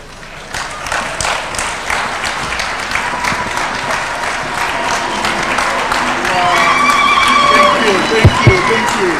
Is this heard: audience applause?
yes